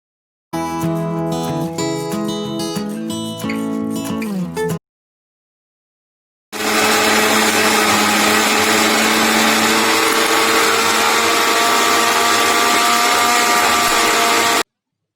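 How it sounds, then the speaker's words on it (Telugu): A mixer grinder coarsely grinds roasted, cooled peanuts and sesame seeds for a bottle gourd chutney. A short musical passage and a pause come first, then a loud, steady, close grinding whir runs continuously to the end. "ముందుగా వేయించి చల్లార్చిన పల్లీలు, నువ్వుపప్పు మిక్సీ జార్లో వేసుకొని కచ్చాబిచ్చాగా గ్రైండ్ చేసుకోవాలి."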